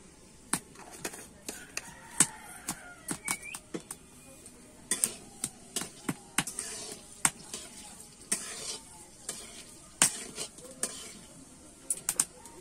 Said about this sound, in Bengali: ফোড়নটা আমি একটু ভেজে নেব।